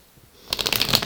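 A deck of tarot cards is shuffled close by, a quick burst of soft riffling flutters that starts after a brief quiet moment and runs on steadily to the end.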